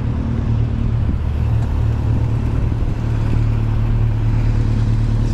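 A motorbike on a street in Japan gives a constant loud low engine rumble and whir that holds steady throughout, with no pauses and no talking.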